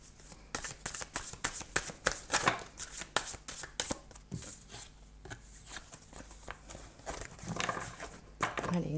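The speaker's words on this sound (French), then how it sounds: "je vais tirer, dans l'immédiat, je vais tirer 6 cartes" Tarot cards being drawn and laid from a deck, soft papery slaps and slides in a loose irregular rhythm, quiet and close, with a voice murmuring in the background.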